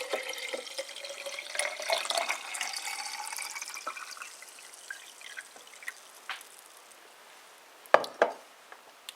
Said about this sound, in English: then I'm going to add my kombucha, like that